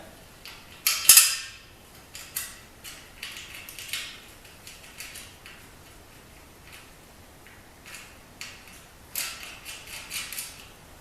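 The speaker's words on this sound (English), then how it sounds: "Now I put this bolt up through and put a nut on it." Bolt pushed through and a nut fitted while assembling a lower track, heard as scattered light metallic ticks and clicks with a sharper clatter near the start, close and fairly quiet with no talk.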